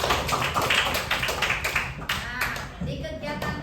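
A school class claps hands together during a lesson, a brisk burst of many quick overlapping claps with a few voices faintly mixed in.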